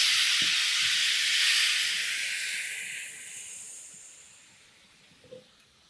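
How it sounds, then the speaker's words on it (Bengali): Raw mango pieces are poured from a bowl into hot, melted sugar syrup for a sweet-sour pickle, setting off a loud, steady hiss of sizzling and steam that slowly fades, with a faint clink near the end. "এবার গামলা ধরে এই আমটা পুরো ঢেলে দিই"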